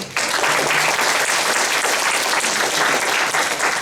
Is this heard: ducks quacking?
no